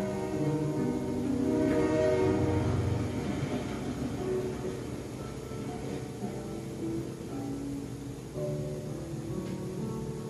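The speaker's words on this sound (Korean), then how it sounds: "다시 떠나가는 기차 소리가 완전히 사라질 때까지 그는 고개를 돌리지 않았다." A train pulls away with a low rumble and sustained horn-like tones, loudest early on and then easing slightly as it departs.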